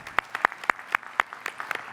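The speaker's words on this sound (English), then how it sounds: "Huge round of applause for Marcus, please" Sparse applause at a pitch competition finals event for a finalist: a handful of distinct, evenly spaced claps ring out at close range over about two seconds, fairly light and thin.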